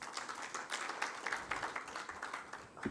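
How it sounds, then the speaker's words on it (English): An audience claps to welcome Osman Kone as he comes up to speak at the Africa Fertilizer.org rebranding and website launch. The applause is steady and fairly faint, with no speech over it. "So let's welcome Osman Kone with a round of applause."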